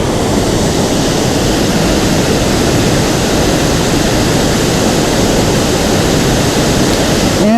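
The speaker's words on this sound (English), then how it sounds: "And this is Running Eagle Falls." Running Eagle Falls in Glacier National Park, Montana, pours in a loud, steady, broadband roar that stays constant and close throughout, with no voices over the rushing water.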